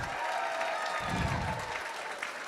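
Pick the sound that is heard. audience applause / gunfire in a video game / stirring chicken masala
audience applause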